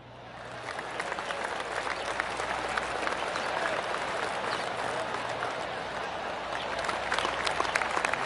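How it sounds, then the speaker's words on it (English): Golf claps from a crowd ringing around the course in a PS5 golf video game, a steady spread of many hands clapping that holds for several seconds, with a faint low hum beneath. "I can hear the golf claps around the course"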